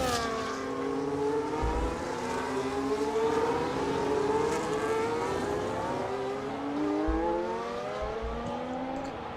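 F1 race cars lapping Imola in the F1 25 video game, high engine whines climbing and falling through gear changes as several cars pass close together, loud and continuous.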